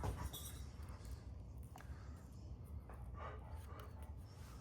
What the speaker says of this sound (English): Boy, that dog is restless.